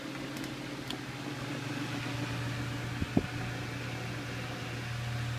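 A Holmes Blizzard II electric fan runs on its medium setting with a steady low hum and a soft whoosh of moving air. The sound is faint and constant, broken by a couple of small clicks partway through.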